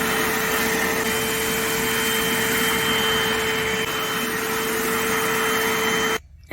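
A Little Green Machine portable carpet cleaner pulls at a carpet stain with a loud, steady suction roar and a constant motor whine, running without a break before cutting off abruptly at the very end.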